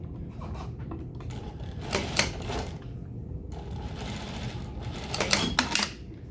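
A sewing machine stitches the ends of an open-end lap zipper on a bustier, in several quick bursts of rapid mechanical chatter separated by short pauses, fairly quiet and close.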